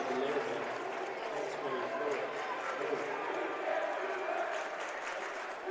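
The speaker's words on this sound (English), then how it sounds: "The Dwenger crowd is letting him hear about it." A high school boys basketball crowd at Bishop Dwenger versus Concordia lets out a sustained, fairly distant roar of jeers and noise while a commentator talks over it.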